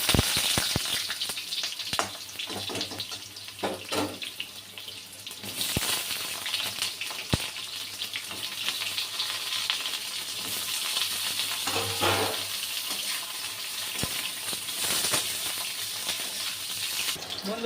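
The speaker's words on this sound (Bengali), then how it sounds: "এবার বেগুনগুলো ভালো করে ভেজে নেবো" Eggplant pieces fry in hot oil in a home kitchen, a continuous bubbling sizzle with occasional stirring scrapes and clicks, close and steady throughout.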